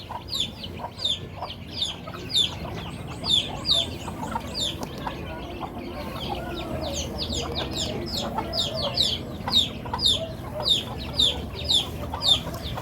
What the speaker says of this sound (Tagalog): So, hapon na magpapakain na tayo ng mga chickenette.